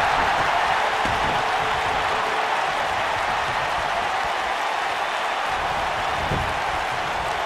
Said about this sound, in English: I don't remember the last time I heard a more passionate crowd than the one we have here tonight